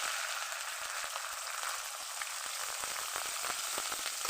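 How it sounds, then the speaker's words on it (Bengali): A ground spice paste fries in oil with a steady close hiss, dotted with quick irregular spits and crackles throughout. "মশলা অনেকটা ভাজা ভাজা হয়ে গেছে।"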